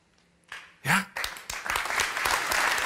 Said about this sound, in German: Ich weiß, zögerlicher Applaus